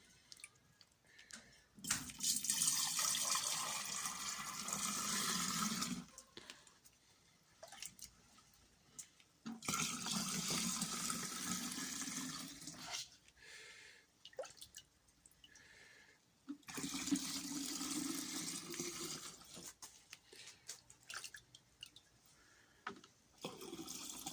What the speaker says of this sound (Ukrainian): Перемішавши цукор в відрі розливаю по банкам.